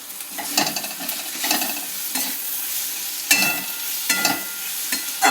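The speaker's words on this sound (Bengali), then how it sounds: "তারপর আরও ভালো করে মশলাটাকে কষিয়ে নেব।" Spice paste with Kashmiri chilli powder and salt sizzles in a pan while a spoon scrapes and stirs it in steady, repeated strokes, close and clear with no voices.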